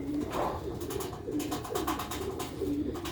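Sialkoti pigeons coo close by in soft, repeated throaty calls over about three seconds, with a faint background hum.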